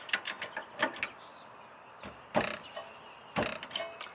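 Ratchet clicks on rear brake caliper bolts of a 2000 Honda Accord. Short bursts of quick clicks come close up, separated by gaps, with a quiet garage background.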